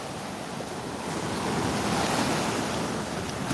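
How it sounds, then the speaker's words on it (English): Ocean surf on a beach in Rayong, Thailand: a continuous broad wash of breaking waves that swells slightly louder midway, with light wind buffeting the microphone and no talking. "Nice surf this morning."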